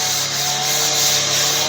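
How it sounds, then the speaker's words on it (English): Guide coat on a truck passenger door being sanded in a crisscross pattern: a continuous, close, loud abrasive rubbing with a gentle back-and-forth rhythm and no talking. "I'm going to be sanding in a crisscross"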